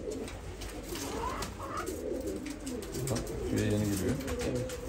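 Arab pigeons in a loft cooing repeatedly in low, rolling calls, close by, while someone talks over them.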